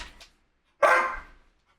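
A dog gives one loud, close bark that trails off quickly, with brief faint noise before it and quiet after.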